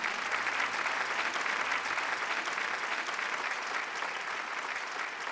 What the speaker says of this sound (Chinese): 来我们掌声欢迎爸爸妈妈来